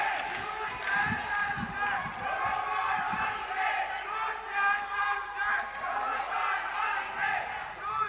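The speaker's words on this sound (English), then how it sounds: "Team members cheering on their team on field." Team members cheer and shout from the stands at a national robotics contest in a stadium in New Delhi, a steady, loud crowd roar with an announcer talking over it.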